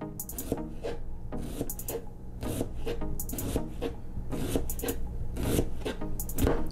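A knife thinly slicing an onion on a cutting board, a quick run of crisp rhythmic cuts in short bursts, close and fairly quiet with no talking.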